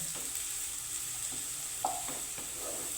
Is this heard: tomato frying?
yes